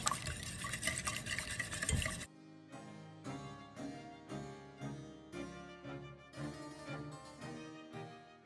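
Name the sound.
mixing drop scone batter in a bowl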